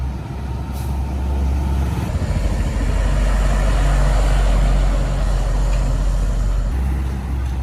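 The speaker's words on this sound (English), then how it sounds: "Truck mounted crane." A truck-mounted crane's diesel engine drones deep and loud at close range, holding a steady low rumble for several seconds with faint hissing on top.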